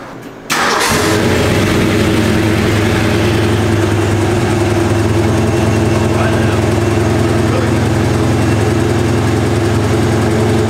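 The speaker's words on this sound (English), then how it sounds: "You should hear that car." A 1968 Mustang Shelby GT500KR with a 428 V8 cranks and fires after a brief pause, then settles into a loud, steady, rumbling idle close by, with no voices.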